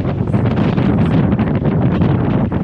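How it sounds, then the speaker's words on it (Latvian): Loud, steady wind roaring and buffeting against the microphone, a continuous rushing noise throughout. "stiprs vējš"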